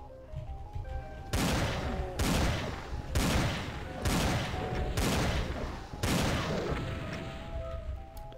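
Heavy shotgun blasts from the Doom mod Project Uber fire in a slow, regular series of five booming, roaring shots, each decaying into a rumbling tail over background game sounds.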